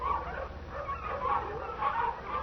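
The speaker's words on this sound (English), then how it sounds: "At daybreak, I was awakened by a distant sound, faint and wavering. The baying of a pack of hounds." A pack of hounds bays in a radio drama, a faint, wavering chorus of distant dog cries and yelps overlapping in uneven waves against a quiet background.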